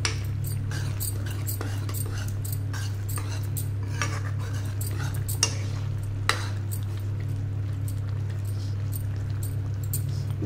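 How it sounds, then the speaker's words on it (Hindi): A metal ladle presses and stirs chickpeas frying in masala in a kadai, giving repeated close scraping and clinking over a steady low sizzle, with no talk. "कुछ छोलों को हम करछी से ही मैश करेंगे, ऐसे हल्के हल्के हम इनको दबा लेंगे"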